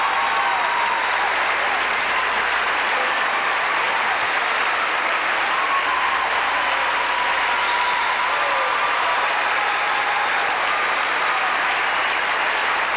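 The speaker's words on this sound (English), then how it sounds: "Champion Brian Boitano, the crowd in Atlanta on their feet." A standing crowd at the Omni in Atlanta applauds Brian Boitano's encore exhibition at the 1992 Skate America figure skating event. The thick, loud clapping holds steady for over twelve seconds, with scattered whistles and cheers mixed in.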